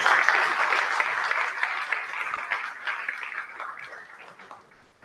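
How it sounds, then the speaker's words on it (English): Audience applause at an award ceremony, fairly dense clapping that starts moderately loud and gradually thins and fades out over several seconds, with no speech over it. "A round of applause for Taskin, everybody."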